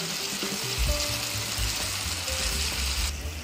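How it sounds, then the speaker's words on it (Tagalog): Cornstarch mixture stirred into a pan of cooking chicken liver, a steady loud sizzle and bubbling with soft scraping from the stirring, close up throughout. "Yan, haluin lang natin."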